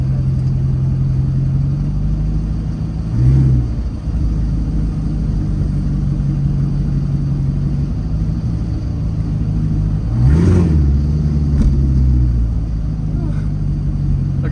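A rebuilt Corvette engine idles steadily in reverse, a loud close rumble with two brief swells, in a smoky garage.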